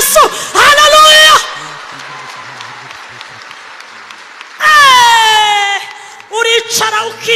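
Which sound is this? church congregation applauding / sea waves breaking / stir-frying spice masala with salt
church congregation applauding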